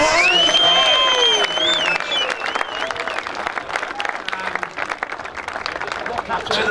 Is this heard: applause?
yes